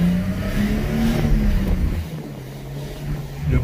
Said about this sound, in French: Je suis vraiment tombé amoureux de ce bruit là, très atypique des BM des années 80